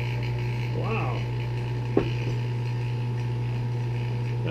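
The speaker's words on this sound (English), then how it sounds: "Now the pump's changed sound," Vacuum pump running on a DIY flat-surface vacuum chamber, a steady low mechanical hum with faint ratcheting and creaking, plus one sharp click midway, moderately quiet and close.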